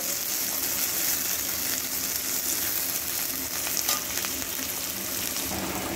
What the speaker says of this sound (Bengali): এই পেঁয়াজগুলোকে বেরেস্তার মতো একটু গোল্ডেন করে ভেজে নেব।